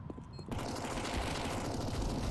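Dense, continuous automatic AK rifle fire in Counter-Strike on the Nuke map during a competitive match, rapid overlapping shots that burst in loudly after a brief quieter moment and keep going without pause.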